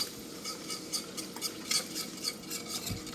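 A whisk stirs cream and milk into a butterscotch pudding mixture in a pot, giving soft, steady scraping and clinking strokes at a quiet level with no voices.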